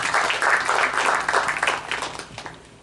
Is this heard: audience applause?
yes